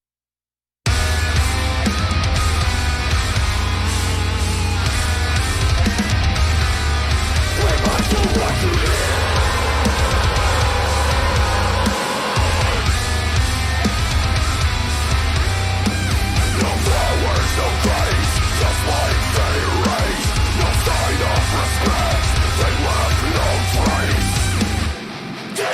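Recorded track: a dense, loud, sustained full-band mix with a steady heavy low end that runs throughout, with a brief dip near the middle and no talking.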